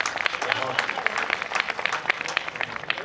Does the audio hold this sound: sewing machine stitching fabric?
no